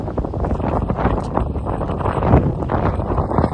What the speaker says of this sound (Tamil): காற்று வந்து அப்படி அப்படி வீசிக்கிறது